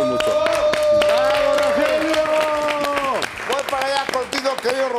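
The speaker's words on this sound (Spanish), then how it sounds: "un aplauso" A television studio audience claps for comedian Rogelio Ramos, loud at first then thinning into scattered claps, with someone speaking and sustained musical tones over the applause.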